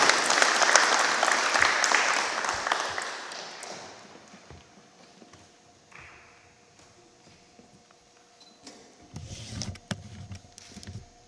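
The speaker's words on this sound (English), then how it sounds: "let's again give up a very well-deserved round of applause" Loud applause from a crowd at a civic association awards ceremony in North Fort Myers bursts at the start, then fades over several seconds to near quiet, followed by some shuffling and a brief resurgence of clapping.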